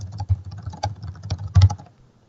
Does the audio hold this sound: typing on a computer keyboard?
yes